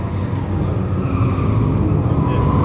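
Drift cars roll around the track on a slow parade lap at a drift event, a steady, loud engine drone and road roar with no breaks.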